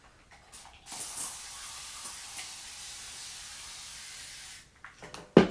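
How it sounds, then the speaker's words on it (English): A spray bottle of water mists damp hair in a steady, soft hiss lasting several seconds, close by, with a couple of faint handling clicks around it and no talking. "So I'm going to go get my spray bottle and fill it up and spray it down."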